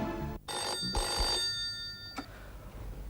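Telephone ringing indoors, an electronic ring in a couple of bursts, loud and close over a steady background hum.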